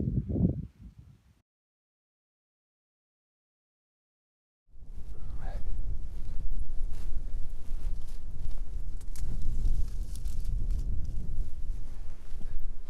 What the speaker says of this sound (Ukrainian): Вітер такий, несамовитий, кукурудзу зносить.